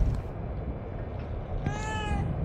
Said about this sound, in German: Hallo, mein süßes Kätzchen.